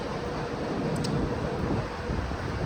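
Strong wind from Super Typhoon Ragasa in Macau roars continuously into the microphone, a loud, buffeting rush with no let-up.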